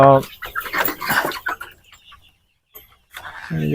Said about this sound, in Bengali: এই যে আমার মুরগিগুলা এটি মাংসের মুরগি